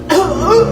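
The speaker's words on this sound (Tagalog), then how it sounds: "Oh, ayan na. Inuubo na." A 75-year-old man gives a short, close cough, a single rough burst of under a second.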